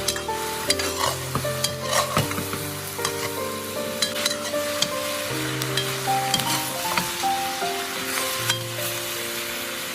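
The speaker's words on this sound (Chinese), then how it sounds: "这个时候我们开中火将它炒一下，炒过的大料会更加的容易出味" Star anise and whole spices stir-fry over medium heat for braised pig's knuckles, a steady close sizzle with constant spatula scraping and clatter against the wok, no voices.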